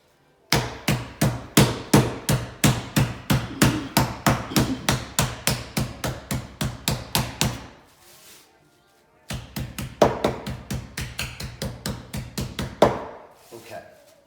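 Rapid, steady hammering on meat wrapped in plastic wrap, with dozens of sharp, loud thuds in quick rhythm, a brief pause, then another burst of strikes close by.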